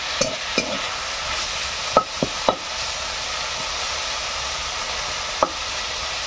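A spoon scrapes and knocks several times against a pan of frying water spinach and drumstick leaves, over a continuous close, even sizzle.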